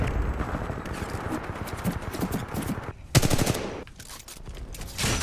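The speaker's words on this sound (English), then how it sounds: "I hear gunshots!" Bursts of gunfire in the shooter game Titanfall, rapid automatic fire that pauses and then resumes, loud and close in the mix with faint in-game ambience between the volleys.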